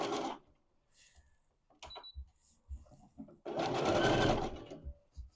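Domestic sewing machine running a wide, long zigzag stitch, a loud whirring burst at the start and a longer, steady stretch near the end, with quiet clicks and handling noises between.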